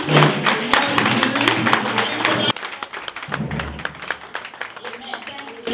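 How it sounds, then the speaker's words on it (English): Congregation at a women's church program clapping in thanks, a dense burst of claps with voices at first, then sparser individual claps and taps continuing after an abrupt drop in level. "let's appreciate our Daddy in the Lord with clap offering to say thank you"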